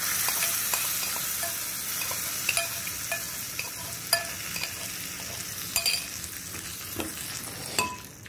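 Dried chillies, curry leaves, chana dal, urad dal, fenugreek, mustard seeds and asafoetida sizzle in hot oil as a tempering for Konaseema banana stem pulusu chutney, with a steady fry, scattered crackles and occasional stirring scrapes.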